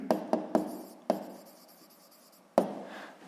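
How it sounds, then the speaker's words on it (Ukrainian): Pen writing a math expression by hand on paper, a few quick close scratchy strokes and taps in an uneven rhythm, separated by short quiet gaps, with no voices. "Оскільки записуємо вираз"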